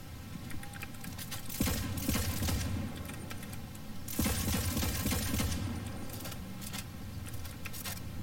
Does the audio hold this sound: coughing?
no